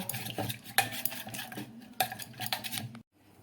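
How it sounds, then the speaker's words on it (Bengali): A spoon stirs Amul milk powder into milk in a pot, clinking and scraping against the metal in uneven close strokes for about three seconds before stopping into near quiet. "এবারে আমুল পাউডারটাকে আমি এই দুধের সঙ্গে ভালোভাবে গুলে নেব"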